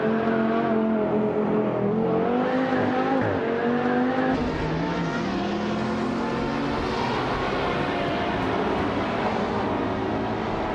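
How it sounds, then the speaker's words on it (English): A 2015 Dodge Challenger Hellcat and other race cars accelerate in a racing video game, a loud, continuous engine roar with rising and shifting pitch sweeps, no voices. "Bot Cap Holster is driving a 2015 Dodge Challenger Hellcat"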